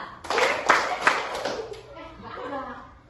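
Children clapping hands in a classroom clapping game, several sharp group claps in quick rhythm, close and loud, mixed with a teacher's voice and light chatter.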